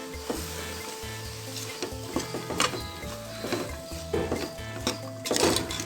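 Chopped vegetables for a hotel-style veg pulao sizzle in a pan while a spoon stirs and scrapes them. The close, uneven scraping strokes sit over a steady frying hiss.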